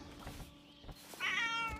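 A nearby house cat gives one clear, rising meow after a few quiet rustles and thumps, fairly loud against a quiet room.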